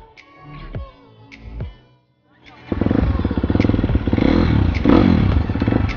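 Husqvarna 250 supermoto motorcycle engine blipped a few times at idle, then held at a loud, steady rev with fast pulsing, close to the mic at a rest area.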